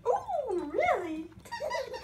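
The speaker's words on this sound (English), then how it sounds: "Yeah, there's the dog." A dog makes short, close whining and whimpering vocal noises, a couple of rising-and-falling cries within about two seconds.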